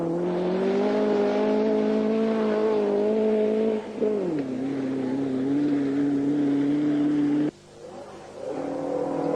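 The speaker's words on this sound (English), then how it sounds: "Ivor Clark in the Avenger GT is the first of 9 competitors competing in Class 2." A Hillman Avenger GT rally car drones at high revs on a 1978 rally stage, holding pitch then dropping as it shifts gears, passing fairly close with a brief lull before revving again.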